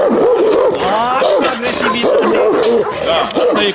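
A Kangal dog nearby gives loud, repeated yelping barks mixed with whimpers in quick, uneven bursts, with some speech in the background.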